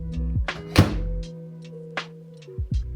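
A microwave door shuts with one solid thunk, with a few lighter clicks and taps before and after it, close by in a quiet room; the microwave had a buzzing fault on shutting.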